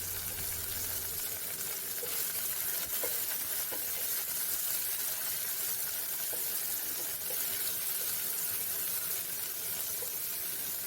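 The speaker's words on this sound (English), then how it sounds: "I'm going to add the dhania stalks, stir, and then cover the pot" Onions and coriander stalks in a pot are stirred over a loud, continuous hiss of frying, with faint scrapes of the spoon now and then.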